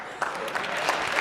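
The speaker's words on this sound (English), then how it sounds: "we got some real applause for that one" Applause from an audience at a startup recap event, brief and moderately quiet, with scattered claps building slightly over a second.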